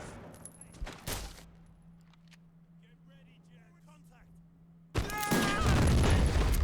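Musket volley fire from redcoat troops in the video game Born in the Fire: America mod, a sharp crack early, then a quiet stretch with voices, followed by a loud, dense eruption of massed gunfire.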